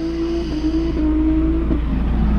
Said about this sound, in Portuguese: se não parar de gravar, ele não para de fazer drift